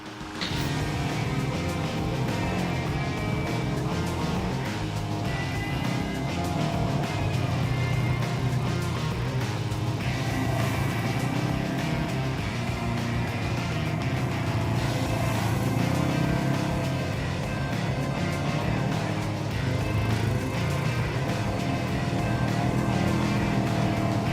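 The engine of a Polaris off-road vehicle runs at a steady, rough drone with slight rises and falls. It keeps up at a moderate level for about 24 seconds, with no talk over it.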